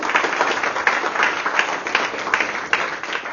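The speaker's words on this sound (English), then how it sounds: "Give him one more round of applause." A church audience gives a round of applause to a speaker, with steady, dense clapping from many hands that holds at an even loudness throughout, with no voices on top.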